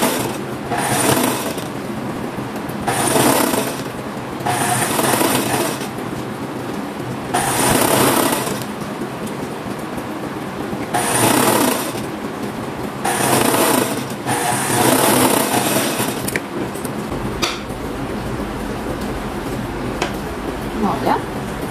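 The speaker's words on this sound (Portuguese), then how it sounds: "Aqui eu vou overlockar, tá? Pra gente poder fazer o acabamento." Overlock sewing machine finishing the edge of women's shorts fabric, running in loud bursts of a few seconds each with short pauses between, close and whirring; brief talk at the start.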